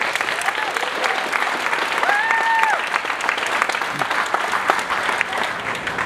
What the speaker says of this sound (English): Let's give a round of applause also for Malibu Unites for bringing us here together.